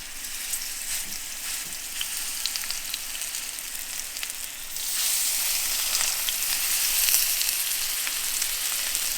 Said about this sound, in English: Some fat sizzle.